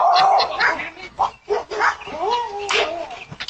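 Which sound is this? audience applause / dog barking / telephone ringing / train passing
dog barking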